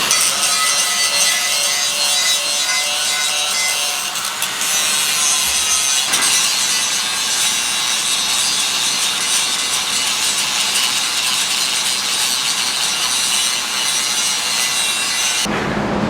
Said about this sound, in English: So I got a lot of grinding to do on this right now.